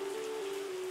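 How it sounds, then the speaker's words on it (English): Steady rain falls over a vineyard in the winemaking tycoon game Terroir, a soft even hiss with a sustained tone running beneath it throughout. "nothing but freaking rain"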